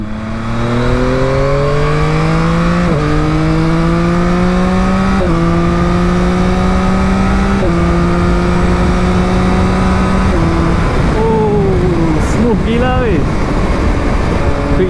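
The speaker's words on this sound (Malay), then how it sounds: "Kita akan test dia punya quick shifter sikit" Yamaha Tracer 9 GT motorcycle engine under hard acceleration, its revs climbing and dropping sharply at several quick-shifter gear changes without the clutch, loud and close with wind noise throughout.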